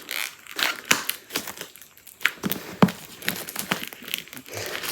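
Packaging of a boxed set being opened, with close crinkling and tearing of plastic or paper in irregular bursts throughout, no talking.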